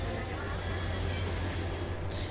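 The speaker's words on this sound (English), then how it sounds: "oh, the train!" A train rolls past in the stealth game Hitman Absolution, a steady low rumble with a thin high metallic whine above it, loud and continuous throughout.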